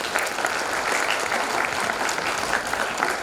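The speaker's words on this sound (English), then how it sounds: "give them a big round of applause" Students and parents clap together at a school English Week celebration, a continuous, even round of applause heard throughout without any voices.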